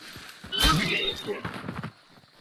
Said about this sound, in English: Shut that fucking horse up.